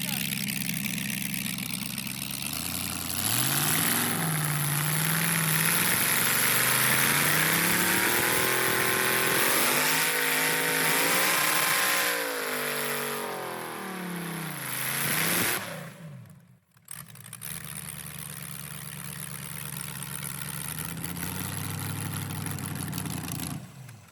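A car with a failing 4L60E transmission revs hard through a long, wavering engine climb that rises and falls, then cuts out abruptly and settles back to a rough idle, recorded close with voices around.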